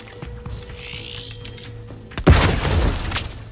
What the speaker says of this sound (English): Grenade dispensed!